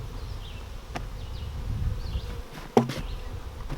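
Honeybees buzz steadily around an open double nucleus colony as the hive is being closed up, a continuous close drone with a sharp knock or clunk near the end.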